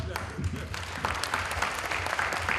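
Audience clapping at an international academic conference hall, a brief uneven patter of hands with talking mixed in over a low hum.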